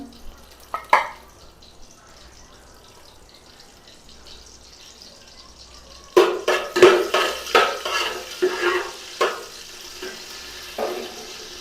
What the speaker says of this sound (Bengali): এখন তেল গরম হলে মশলা দিলাম